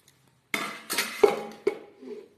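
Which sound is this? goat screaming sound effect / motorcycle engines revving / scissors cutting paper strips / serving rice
serving rice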